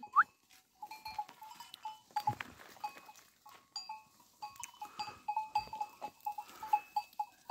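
A flock of sheep heads out to graze in the morning, with bells clinking and scattered bleats near and far, in a steady jumble of animal sounds with no talking.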